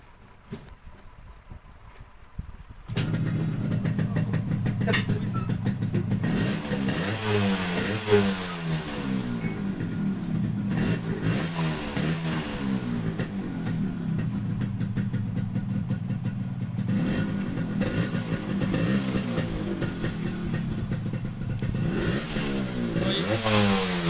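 A Yamaha RX100 motorcycle fitted with an iridium spark plug and a quick throttle starts up after about three seconds of near silence, then revs loudly and repeatedly up and down nearby for the rest of the time, with no talking.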